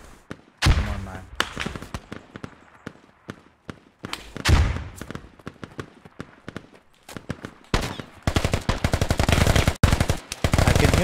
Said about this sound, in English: I can hear some gunshots being fired at me.